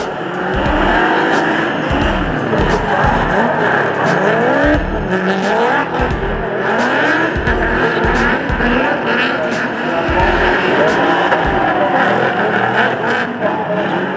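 Drift cars battle at a D1NZ competition, engines roaring loud and continuous with repeated revving surges and tyre squeal, including a Nissan S14 suffering a misfire and gearbox issues.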